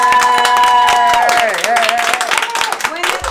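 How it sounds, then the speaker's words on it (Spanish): A film crew on a making-of set clapping loudly together, rapid dense applause mixed with shouting and cheering voices. "nos vamos a dar un aplauso muy fuerte"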